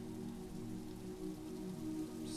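Rain falls steadily in the pixel-art video game The Way, a faint, even hiss of downpour with a low background hum and no voices.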